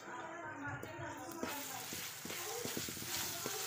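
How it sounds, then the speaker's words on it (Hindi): Paneer, 250 grams, frying in a pan with spinach and garlic, giving a steady close sizzle with scattered soft clicks and stirring scrapes throughout. "हम इसको अच्छे से फ्राई कर लेंगे"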